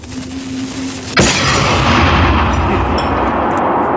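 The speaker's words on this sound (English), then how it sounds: "Light this dynamite. Toss it over there. And watch the fireworks." Dynamite explodes in the VR game Hot Dogs, Horseshoes and Hand Grenades, one sudden loud boom after a quiet fizzing lead-in, followed by a long rumbling roar that fills the rest of the moment.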